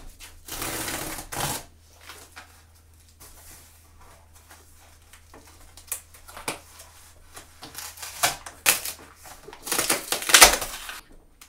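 A parcel from Éditions Salamandre being unboxed, with scattered rustling, tapping and crinkling of packaging and cardboard, quiet at first and then busier, with a cluster of sharper crackles near the end.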